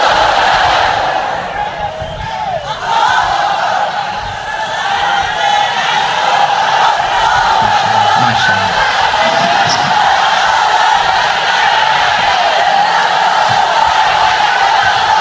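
A mosque congregation shouting takbir in unison, a loud, sustained roar of many voices that swells and holds, echoing through the hall.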